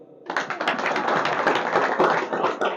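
Church congregation bursting into a round of hand clapping, dense and loud, with many sharp overlapping claps sustained for a couple of seconds indoors.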